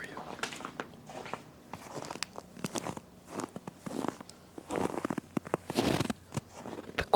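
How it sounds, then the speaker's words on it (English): Footsteps crunch in cold, crunchy snow outdoors, coming as irregular close crackling steps, with soft whispered speech between them. "Let me walk in the snow for you."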